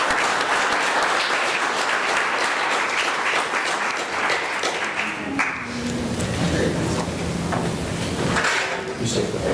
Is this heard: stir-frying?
no